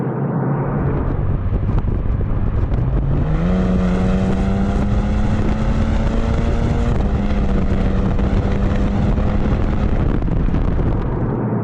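Porsche Macan Turbo with a resonated muffler bypass, cruising in seventh gear in sport mode, heard from inside the cabin as a steady low exhaust drone that rises in pitch and then holds a smooth, continuous hum.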